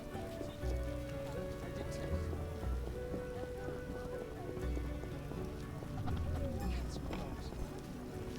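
Steady rain patters on surfaces throughout in the trade quarter of the video game The Witcher, with occasional clopping and faint background tones underneath.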